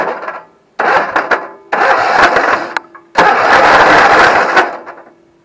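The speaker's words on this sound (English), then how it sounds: "That starter needs a bit of lube." A neglected Alsport UT 10 utility truck's starter motor cranks in three loud, close bursts of grinding churn separated by short pauses, the last burst longest, without the engine catching.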